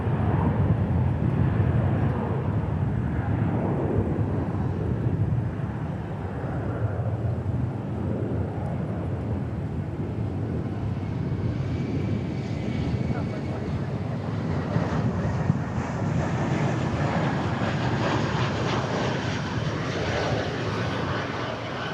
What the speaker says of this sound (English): Boeing 747 approaching Decatur. From Anchorage, the 747-8.